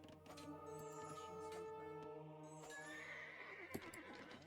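Horse neighing in Age of Empires II, a clear whinny of a unit in the game with tonal calls, faint clip-clop and in-game sound effects mixed in, moderately quiet and without speech.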